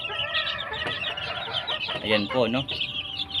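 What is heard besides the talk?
chicks peeping, first batch of early bird chicks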